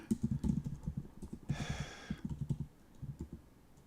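Computer keyboard typing in a room, a steady run of quick light key clicks with short pauses, close by, alone with no talk.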